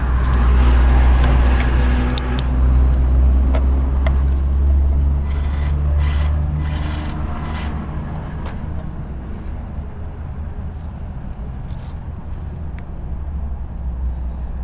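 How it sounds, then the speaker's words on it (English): A harvest truck running in the background, its low steady engine rumble droning throughout, louder at first and then settling a little quieter, with faint scraping and clicking on top. "Forgive the harvest truck in the background."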